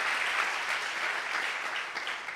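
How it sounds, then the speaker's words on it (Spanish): Church congregation applauding during a sermon, a dense, steady roar of many hands clapping at moderate loudness without any voices over it. "Si ese aplauso es para la palabra, para Dios, denlo fuerte."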